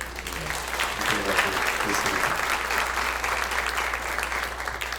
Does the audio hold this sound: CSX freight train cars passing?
no